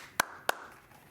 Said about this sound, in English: She could clap her hands.